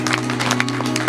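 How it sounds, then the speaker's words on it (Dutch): A short burst of audience applause at an awards ceremony, brisk uneven clapping from a crowd heard at close range over a steady low hum. "Applaus."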